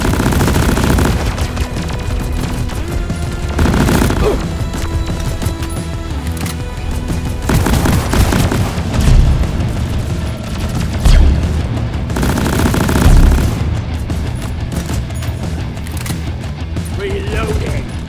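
Rapid bursts of automatic gunfire and booms fill a Deep Rock Galactic fight against the Caretaker, loud and nearly continuous, with short pauses and heavier impacts scattered throughout while in-game voice lines sound over the shooting.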